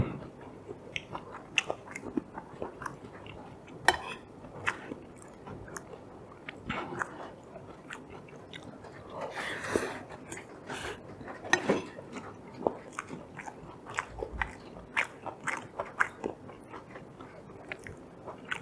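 Someone bites and chews food at a meal, close, soft crunchy bites and chewing sounds in an irregular rhythm over a quiet room, with no talking.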